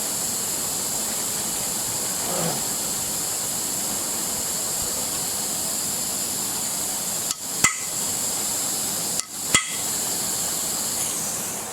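A drill with a 3/16 bit bores into a freeze-cracked 400 engine block, giving a steady, close hiss of drilling that runs for most of the stretch, with two brief breaks near the end.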